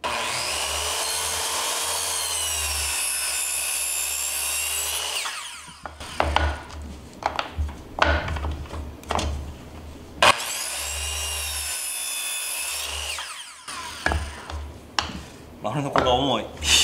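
A circular saw cutting wood at a 60 degree angle for a hexagon shelf: two loud, steady whining cuts, each followed by clattering and handling of boards, with someone talking between the cuts.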